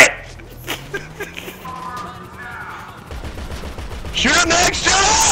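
Gunfire in the video game GTA V Online: scattered shots early on, then a denser burst of rapid fire near the end, amid game sounds and voices.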